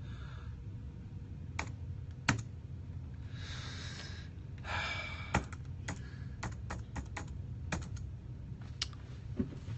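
Irregular keystroke clicks from a computer keyboard tap out in uneven bursts, fairly close and moderately quiet, over a low steady background hum with a faint breath or two.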